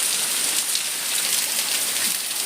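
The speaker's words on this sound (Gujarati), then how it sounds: "વરસાદ તો ચાલુ જ છે" Heavy rain pours down in a dense, steady hiss, loud and close, with no pauses, during a cloudburst with lightning and flooded streets in Mithapur.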